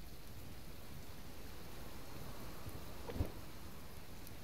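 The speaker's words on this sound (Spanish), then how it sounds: "Y ya a ver si para de llover, que está lloviendo demasiado" Steady rain falls throughout a survival game set at a lakeside base in Subsistence, a dense even hiss with one brief louder patter near the end, no voices present.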